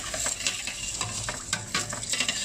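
Green moong dal being stirred in a pan as it cooks, a spoon scraping and clinking in irregular strokes over a steady bubbling simmer, close and moderately loud.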